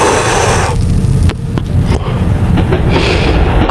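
A train leaving Howrah runs on rails with a loud, continuous rumble and roar, broken by a few sharp clicks of wheels over rail joints.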